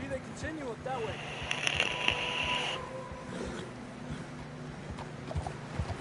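Rhythmic hoof clip-clop of a horse in Red Dead Redemption 2, mid-distance, with a whistling tone and ambient sounds layered over it.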